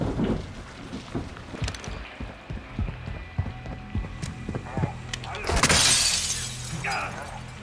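Heavy rain hisses steadily in Call of Duty: Modern Warfare 2, mixed with footsteps, clattering impacts and a loud crash near the end, and voices speak over it.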